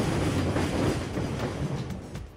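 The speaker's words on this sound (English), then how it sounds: "Freight train." A freight train rolls past in a loud, close, continuous rumble with clattering rail noise that eases slightly toward the end.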